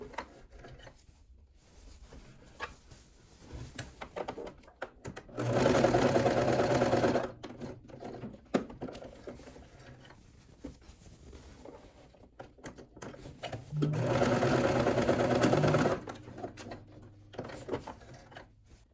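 A sewing machine stitches pleats in main and lining fabric, with two loud sustained whirring runs of about two seconds each, separated by quieter handling and rustling of cloth.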